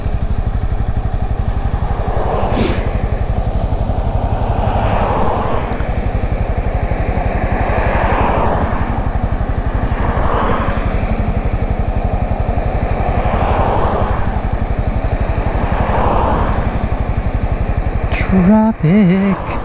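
Motorcycle ridden through traffic, a loud continuous engine drone that swells and eases in regular waves as the rider shifts and changes speed, with wind rush over the helmet and a brief clatter near the end.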